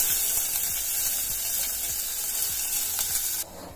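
Onion drops into hot oil already seasoned with panch phoron and broken dried red chillies, giving a loud, steady, close sizzle with light stirring that drops away abruptly at the end.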